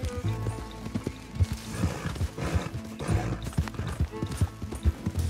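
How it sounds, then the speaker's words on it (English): Horse in the video game Red Dead Redemption 2, with steady clip-clop hoofbeats and a whinny over a busy in-game soundscape, with faint talk mixed in. "Why is there a horse?"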